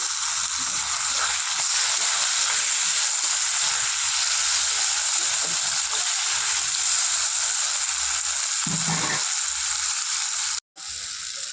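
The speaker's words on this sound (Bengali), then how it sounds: "পেঁয়াজ আর টমেটোটা ভাজা হয়ে গেছে।" Onion and tomato fry in a pan with a continuous, even hiss and sizzle, close and loud, with faint stirring thumps and a brief pause near the end.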